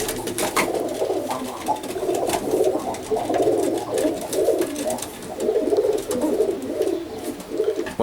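Oriental roller pigeons coo in a loft, several birds making repeated soft rolling calls in overlapping bursts, fairly close, with light background rustling.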